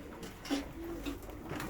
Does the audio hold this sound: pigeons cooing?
yes